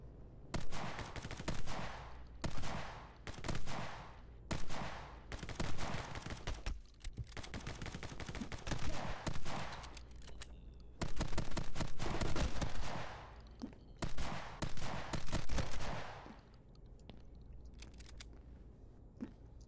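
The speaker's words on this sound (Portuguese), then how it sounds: "Agora vou usar o de sniper, né?" Rapid bursts of sniper rifle gunfire from the action video game My Friend Pedro, loud, dense clustered shots in repeated volleys separated by short pauses, with no talking.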